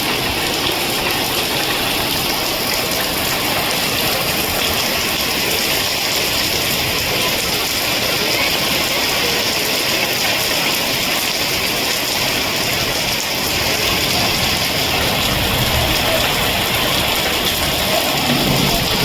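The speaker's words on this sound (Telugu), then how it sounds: "రెంటచింతల్లో ఒక 10 నిమిషాల నుంచి అయితే భారీ వర్షం ఈ విధంగానే పడతా ఉంది" Heavy rain pouring steadily in Rentachintala, a loud dense hiss with no letup throughout.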